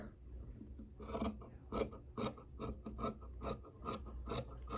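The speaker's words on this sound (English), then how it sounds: "we're going to cut the sides off" Scissors cut through bikini fabric to trim the sides, giving a rapid series of short, close crisp snips in uneven bursts over quiet background.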